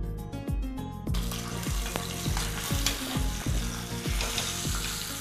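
Hot tempering sizzles loudly as it is poured into curd for moong dahi bonda, a steady crackling hiss with repeated sharp ticks and clinks of a spoon against the vessel throughout.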